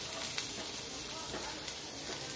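Steady, close sizzling of finely chopped onions frying in hot oil for spring rolls, a continuous crackling hiss with small pops throughout.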